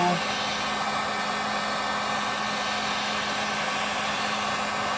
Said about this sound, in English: So we're just gonna go around with the heat gun, just like so.